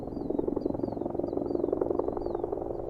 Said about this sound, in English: A helicopter circles low over a marshy outcrop.